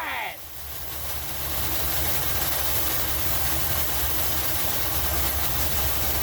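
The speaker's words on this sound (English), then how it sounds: "We got her idling, y'all." An old 1981 Dodge B250 Ram Van engine idles in a steady, slightly rough low drone that swells after a brief dip at the start and then holds close and constant.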